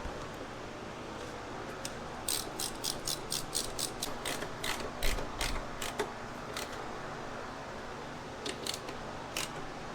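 A ratchet wrench tightens a bolt on a Polaris Sportsman 700 ATV, its bursts of quick clicks coming in an uneven series, soft and close, with no talk.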